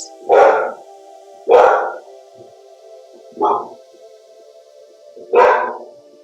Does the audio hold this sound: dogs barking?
yes